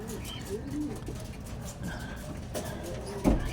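Racing pigeons coo softly and low inside their loft, a few short coos close by over a faint background murmur.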